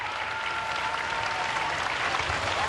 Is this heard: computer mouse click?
no